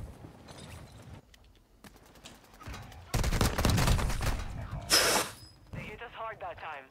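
Bursts of gunfire in Call of Duty Warzone Resurgence, from scattered shots to a loud sustained volley, with a sharp crack near the end and a person talking over the action.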